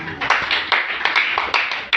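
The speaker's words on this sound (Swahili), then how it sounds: "sasa imekuwa pigia Yesu makofi" Congregation clapping in a church service, a series of claps at a rhythmic beat under a loud room wash with speech-like sound mixed in.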